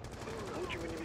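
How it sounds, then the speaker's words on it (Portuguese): Rapid gunfire from a shooter video game, a fast faint burst of shots through a window, heard under a player's talk. "O cara atirou varado na janela"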